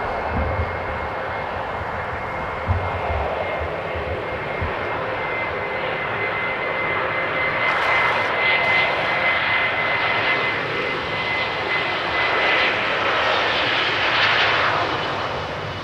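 A passenger plane lands on runway 27 at Amsterdam Schiphol, a steady jet engine roar heard from a distance that holds for about sixteen seconds and swells slightly toward the end, with no talking.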